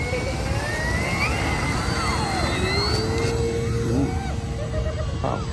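An FMS P-47 Razorback 1500mm RC model warbird on its maiden flight, its electric motor whining and shifting pitch as it passes overhead, fairly loud and continuous against outdoor background noise.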